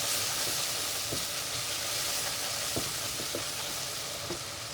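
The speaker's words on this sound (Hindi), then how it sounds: "अच्छे तरीके से भून लेंगे।" Turmeric, coriander powder and salt fry in a hot pan for baingan bharta, giving a steady, even sizzle close by with a few faint stirring clicks and no talking.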